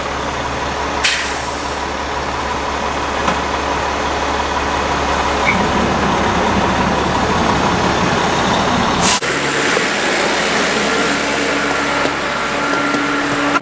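A fire engine idles with its pump engaged, giving a loud, steady low engine drone and mechanical hum with a sharp burst near the start and a brief clunk partway through.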